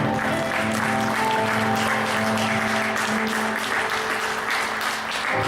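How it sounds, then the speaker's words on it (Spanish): A church congregation claps steadily in sustained applause, a dense wash of hands that continues over a held musical tone before tapering at the end. "Démosle un aplauso al Señor."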